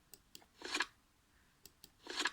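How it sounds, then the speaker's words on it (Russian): Two bursts of crisp paper rustling, like pages being turned, with a few soft ticks in between, fairly quiet and close. "Вот вы слышите звук шелест страниц."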